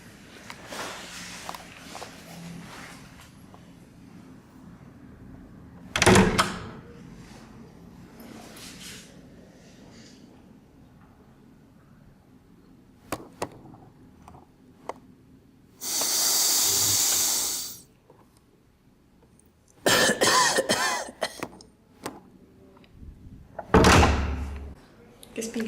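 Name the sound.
door being opened and closed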